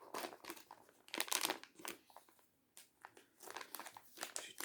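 Underwear packaging from On That Ass being opened up close, with crisp bursts of crinkling and rustling in uneven clusters separated by short pauses, and no voices.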